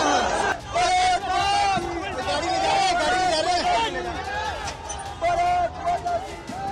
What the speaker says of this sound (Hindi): हजारों की भीड़ और भारत माता के लिए लगते नारे।